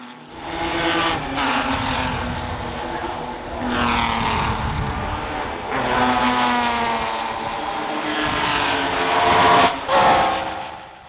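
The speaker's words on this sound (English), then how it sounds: "listening to that BRM go past, driven by Rob Hall" A BRM racing car driven by Rob Hall at the Goodwood Revival circuit roars past at close range, its engine note rising and falling through gear changes and a second pass, loud and continuous with no talk.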